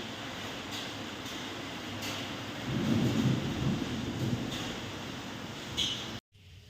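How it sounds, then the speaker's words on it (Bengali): Heavy rain with hailstones pounding the ground, a dense continuous roar that swells midway with deep rumbling thuds and a few sharp impacts before cutting off. "প্রচণ্ড বৃষ্টি হচ্ছে, সঙ্গে শিল পড়ছে। শিলগুলো অতটা দেখা যাচ্ছে না, কিন্তু পড়ছে আর ধুমধাম করে আওয়াজ হচ্ছে"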